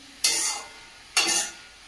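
Two separate bursts of hissing sizzle as leafy greens, already salted and spiced with turmeric, are stirred and fried in a pan, each burst flaring loudly and then fading; no voices.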